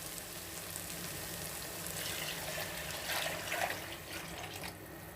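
Water poured from a cup into a pan while cooking semiya pulao, a steady faint splashing stream lasting several seconds with no voices.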